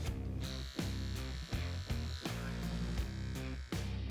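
An adjustable electric hair clipper with no guard buzzes steadily through a taper haircut, a close continuous hum broken by brief dips and restarts as the blade moves over the head.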